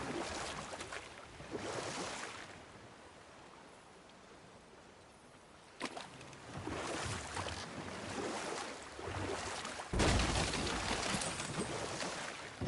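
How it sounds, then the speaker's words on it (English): An enormous waterfall in the God of War video game roars as a broad, continuous wash of rushing water, swelling in sudden surges and holding steady between them. "I've never seen a waterfall so big."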